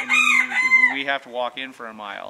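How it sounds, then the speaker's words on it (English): A rooster crows close by on a snowy rural property as winter sets in, its drawn-out call overlapping a person talking. "chickens pucking away and the rooster crowing"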